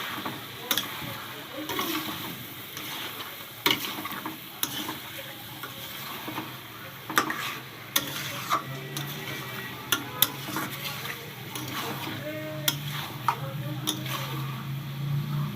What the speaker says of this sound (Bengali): এবার এই ভেজে রাখা যে আলু ছিল সেই আলুগুলো ওর ভিতরে দিয়ে দেওয়া হলো।